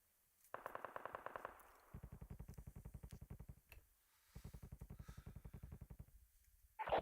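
An AK rifle fires in Warzone, the video game, in rapid automatic bursts: a short first volley, then two longer strings of shots with brief gaps between them. The shots sound crisp and close.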